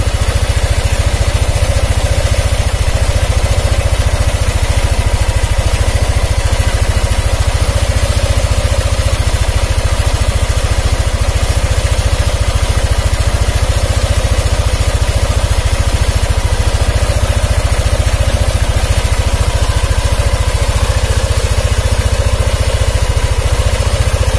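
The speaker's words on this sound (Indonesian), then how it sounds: "kita biarkan motor ini hidup dulu ya, dan nanti kita dengarkan suara mesin" A Yamaha Aerox scooter engine with a rough-running fault idles steadily and loudly throughout, a constant buzzing drone with a low rumbling vibration and no voices.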